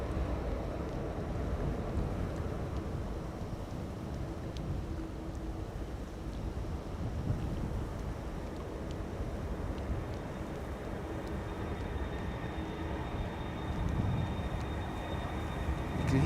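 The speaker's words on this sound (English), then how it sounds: "You can hear it immediately when those engines are turned towards you." Steady, broad roar of a Delta Airlines A330-300's jet engines departing Amsterdam Schiphol Airport, continuous and rumbling with wind noise, swelling slightly toward the end.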